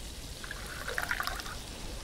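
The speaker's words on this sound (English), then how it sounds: "Pouring into the molds." Molten metal pours into molds while crafting tools in The Last Plague: Blight, a soft liquid trickle and splash that swells briefly in the middle of a quiet stretch, with no one talking.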